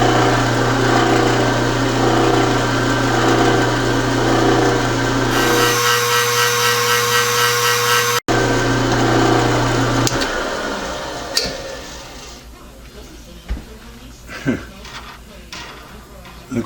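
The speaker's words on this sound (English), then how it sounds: "I'm just going to put a center drill through." A center drill bores into a metal part for a four-way tool post clone, the machine's motor humming steadily and shifting pitch midway, then cutting off after about ten seconds and leaving scattered clicks and handling knocks.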